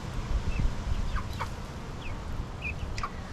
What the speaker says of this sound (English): We have our chicks here